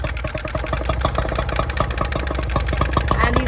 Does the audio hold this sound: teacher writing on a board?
no